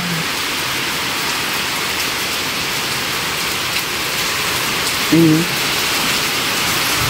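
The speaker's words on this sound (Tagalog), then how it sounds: "lakas na ng hangin at ulan. Sinabayan na ng ulan." Steady heavy rain hisses across everything, a dense wash of noise with gusty rushes, and a brief tonal knock midway.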